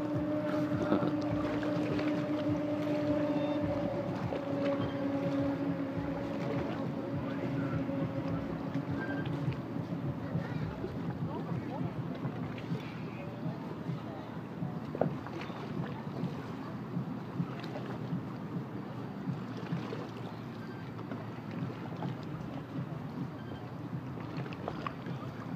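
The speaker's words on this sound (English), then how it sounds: "You hear the party boat out in the lake?" A party boat's engine hums in the distance across a lake, with a faint tonal drone early on fading under steady wind and outdoor ambience.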